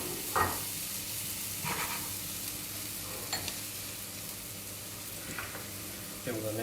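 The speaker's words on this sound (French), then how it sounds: "quand le beurre il commence à chanter, hop, les échalotes" Shallots sizzle in butter in a pan with a steady, moderately quiet frying hiss, broken by a few soft stirring or scraping bumps at intervals and no talking.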